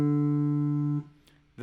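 The open D fourth string of a guitar, correctly tuned, is plucked and rings steadily for about a second before being muted, followed by a short quiet gap and the onset of another note.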